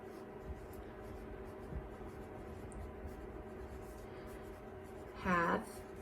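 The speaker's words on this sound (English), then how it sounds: "So in my own words, I'm going to write" Handwriting on paper, a brief scratchy pen stroke near the end, faint against a steady quiet background hum.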